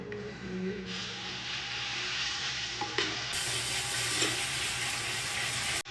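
Water from a tap rinses permed hair in a salon-style rinse, a steady close rushing hiss that runs unbroken for the whole stretch.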